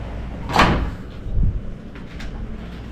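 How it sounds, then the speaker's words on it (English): A motel door at Hotel Amargosa being unlocked and pushed open: a sharp close rattle of the latch and lock, then a softer low thump a moment later, with no voices. "I unlocked the door and stepped"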